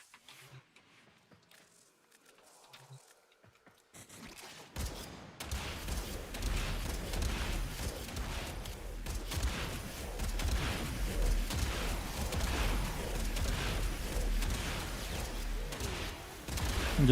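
Weapon fire in Warframe starts after a few near-silent seconds of faint rustling, then becomes a dense, continuous stream of rapid shots and impacts that stays loud and busy to the end.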